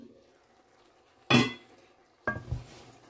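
A metal pot lid and cookware handled while cooking spinach chicken, two sharp clanks about a second apart, close and clear in a quiet kitchen.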